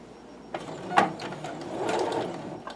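A sewing machine starts stitching folded fabric under the presser foot: a sharp mechanical clack, then a brief burst of needle strokes and a rising whir of running stitches, heard close up with nothing else over it.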